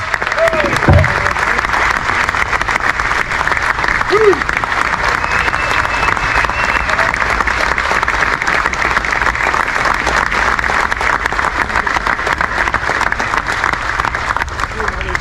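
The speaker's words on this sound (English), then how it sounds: "Round of applause for John Murray, folks." Sustained audience applause at a bass fishing hall of fame induction ceremony, a dense, even clapping from a large indoor crowd lasting the whole stretch, with a brief voice and a faint tone near the start.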